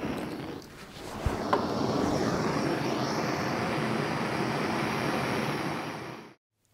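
Steady roaring gas torch heating a steel part to fit a worm gear onto a keyed shaft for a shopmade welding rotator, a continuous broadband rush held close for several seconds before cutting off abruptly.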